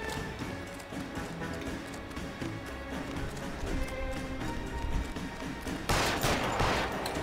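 Gunfire crackles in the LA Noire video game during a busy action scene, with dense bursts of shots and heavier blasts near the end against steady game noise.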